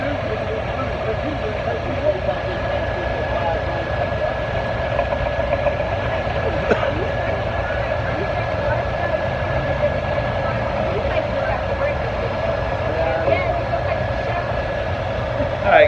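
An old farm tractor engine pulling at a rural tractor pull, a loud continuous low drone with a steady tonal whine, heard from the crowd area with faint background voices.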